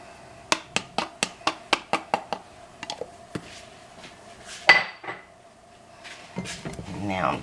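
A container of seasoned flour mix is pried open in a kitchen: a rapid series of about a dozen sharp clicks, then a louder pop of the lid and softer rustling handling, with brief talk around it.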